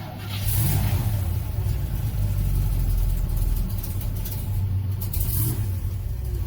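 A 1971 Chevy C30 one-ton Longhorn camper truck idles with a deep, steady low rumble close by, holding an even level throughout with slight swells.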